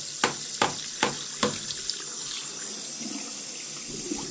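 Running tap water splashes into a sink while a coffee filter is rinsed out, opening with four sharp knocks before a steady, close hiss of flowing water.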